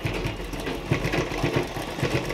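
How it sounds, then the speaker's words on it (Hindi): A sewing machine runs back and forth to lock the start of a Patiala salwar seam, giving a steady mechanical whir with a quick, repeating stitch rhythm throughout, close and moderately loud. "दो तीन ऐसी सिलाई आगे पीछे करके इसको पहले अच्छी तरह से लॉक कर देना है"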